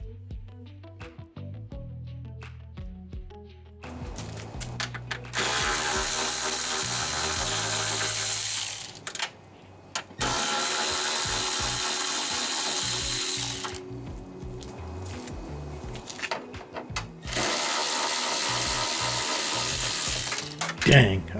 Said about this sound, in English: Go ahead and remove that screw.